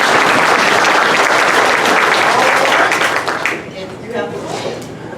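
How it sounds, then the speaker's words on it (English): An indoor crowd at a political candidate forum claps loudly and steadily for about three seconds before the applause quickly fades away and a few scattered claps remain. "We're going to do applause after the introduction"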